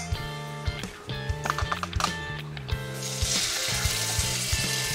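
Dry chile salsa sizzling as it hits hot olive oil in a pot, a steady crackling hiss that swells and fills out over a few seconds, with rhythmic thumps running beneath it.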